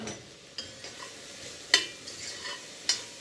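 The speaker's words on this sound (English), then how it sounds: "we're ready to give everything a stir now" White bean chili being stirred in a pot, with a few soft scrapes and knocks of the spoon against the pot over a quiet, low simmering hiss.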